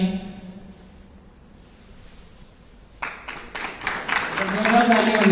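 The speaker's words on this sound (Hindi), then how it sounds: "एक बार जोरदार तालियां हो जाए मुकुल के लिए।" Audience at a school felicitation ceremony in Nawalgarh bursts into loud applause for a high-scoring student, many hands clapping together and building steadily after a quieter stretch of background voices.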